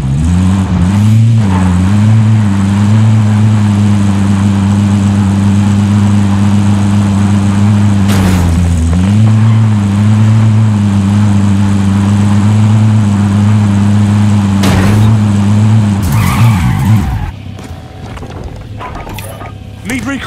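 In Warzone, a car engine drones steadily as the vehicle is driven, with rev shifts and mechanical clunks, then cuts off near the end, leaving quieter ambience.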